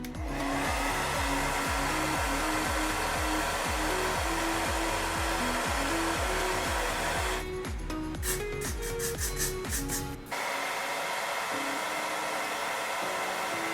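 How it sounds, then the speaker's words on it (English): A handheld blow dryer on a cool setting roars steadily while drying hair on an installed wig set with Got2b Glued Freeze Spray, its airflow pulsing rhythmically, then shifting tone briefly before settling into a smoother hum. "we're just going to set that with a blow dryer on a cool setting"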